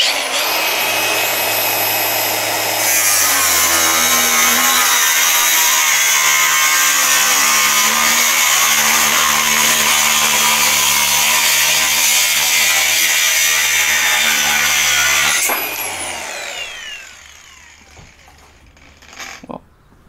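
Angle grinder, Milwaukee or Parkside, cutting through 3 mm sheet steel: a loud, steady high-pitched whine and abrasive screech for about thirteen seconds, then the disc spins down and stops with a few faint clicks.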